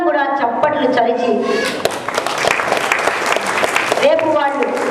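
Audience applause after a children's dance performance, a dense wash of clapping that carries under a voice speaking through most of the stretch.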